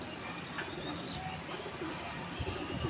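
Imported pigeons coo softly in a loft, low throaty calls repeating under a steady background hum, with a few faint chirps mixed in and no talk.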